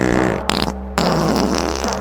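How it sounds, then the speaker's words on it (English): A short, rough fart-like burst breaks through a steady low hum, with a brief pause before the noise resumes. "Was that a fart?"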